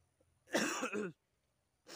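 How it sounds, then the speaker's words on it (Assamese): A single close cough bursts out sharply in the quiet, followed by a short second throaty sound a moment later. "কাহ হৈ গৈছে।"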